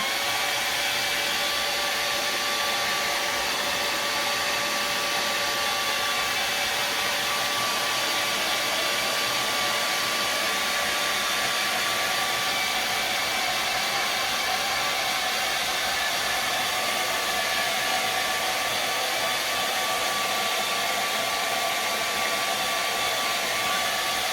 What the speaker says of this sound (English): Let's get the old dryer again.